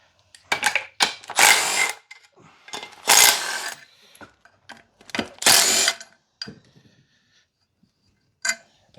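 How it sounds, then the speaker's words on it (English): Socket wrench ratchet working bolts off an engine bracket, several short bursts of rapid clicking separated by pauses, close and fairly loud, with a faint click at the end. "So let me get the socket and start removing some stuff."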